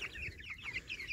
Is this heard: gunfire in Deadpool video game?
no